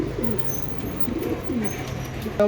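Racer pigeons of a German bloodline coo softly in a loft, several low repeated rolling coos close by, ending in a brief knock.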